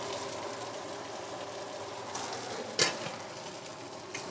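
Dirty rice sizzling and frying in a pan, a soft steady crackle with a sharper scrape or clatter near the end, faint and close with no talking.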